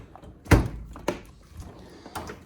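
A metal tool chest drawer is pulled open, giving a sharp thunk followed by two softer knocks and a faint rattle.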